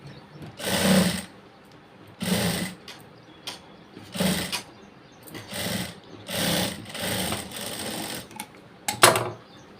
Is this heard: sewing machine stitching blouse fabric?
yes